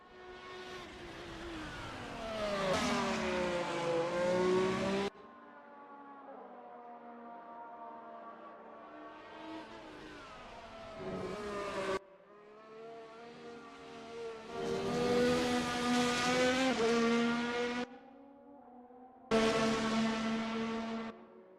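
Race cars lap a circuit called Piranema in a sim racing video game, their engines whining and droning in separate passes. The pitch rises and falls through gear changes, with sudden cuts between cars and short quiet gaps.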